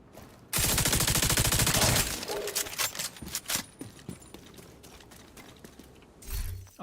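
FAMAS assault rifle fire in a video game: a loud, rapid automatic burst of about a second and a half, then a string of sharp, separate single shots and clicks that trail off into quiet.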